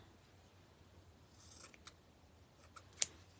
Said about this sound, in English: But there's our bow. Gotta trim it up a little bit.